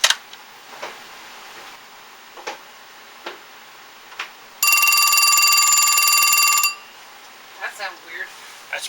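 A Western Electric Trimline Director executive phone with a single bell rings in one loud continuous burst of about two seconds, set between faint clicks and handling noises.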